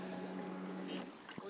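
A speedboat out on the sea at Digha: a steady motor drone with water and wind rush, heard up close, a faint voice underneath and a brief knock near the end.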